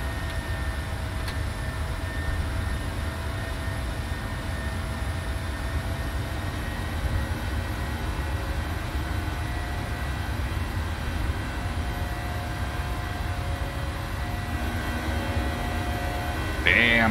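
Steady, broad engine roar of a PMDG Boeing 737-700 in a flight simulator during climb after flaps up, a continuous loud drone with faint whine tones and a brief click near the end, no talking.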